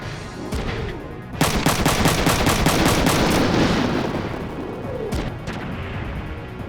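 Rapid bursts of machine gun fire from a mech in the video game Front Mission 3, a loud sustained clatter of rapid shots between sharper single cracks.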